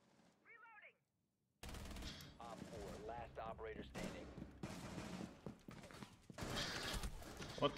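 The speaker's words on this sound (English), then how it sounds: "there's a guy shooting at me?" Enemy gunfire in the game Rainbow Six Siege, bursts of rapid shots cracking in loud clusters over several seconds, with a player talking between and over them.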